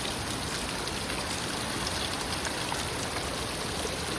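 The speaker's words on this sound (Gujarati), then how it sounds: "આવો વરસાદ આવે છે ભાઈ." Heavy rain pours down in a steady, dense hiss, loud and close, with no pauses and no voices.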